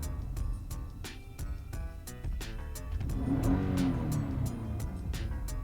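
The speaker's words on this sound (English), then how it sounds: "so I'll just rev the car" A Nissan Patrol Y62 engine idles, then is revved, swelling to a louder, higher roar before settling back, with a regular ticking throughout.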